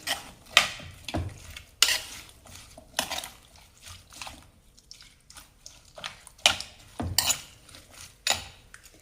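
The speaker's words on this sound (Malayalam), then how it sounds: "ഇതൊന്ന് മിക്സ് ചെയ്യാം." Curry ingredients (turmeric powder, chilli powder, salt, curry leaves and water) stirred in a pot for a cucumber and mango curry, with a spoon clinking and scraping against the metal in irregular bursts, close up and without talk.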